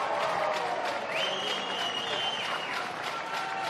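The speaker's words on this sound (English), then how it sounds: "The healthy crowd here at the SCG like it" A crowd at the SCG cheers and applauds after a goal in a 2017 NEAFL grand final football match, a loud, sustained wash of clapping and roaring with a rising whistle partway through.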